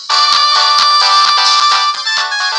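Mobile phone left lying around rings with an unknown number, a loud, bright electronic melody repeating in quick rhythmic pulses, with no voices over it.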